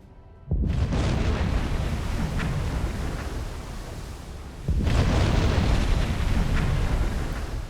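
Two heavy torpedo explosions strike ships in the Silent Hunter 4 submarine game, each a loud sudden boom followed by a sustained roaring rumble, the second blast arriving about four seconds after the first.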